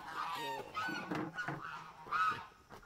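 Geese honking loudly and close by in a barnyard egg-collecting setting, a run of harsh repeated honks filling the whole stretch with no talk.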